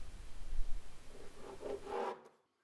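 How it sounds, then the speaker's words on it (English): A multi-tool fitted with a plunge cut blade cuts into a plastic box during solar generator component mounting, giving a short close rasping buzz that builds and then stops abruptly. "Now I'm doing my cuts with a multi-tool with a plunge cut blade on there."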